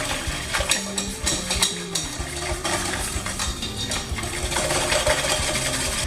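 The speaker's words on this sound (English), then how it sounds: "we're gonna whisk that together and make it all nice and homogenized" Plant milk and flour whisked together in a bowl for a veggie pot pie filling, giving a steady run of quick metallic clinks and scrapes throughout, with no talking.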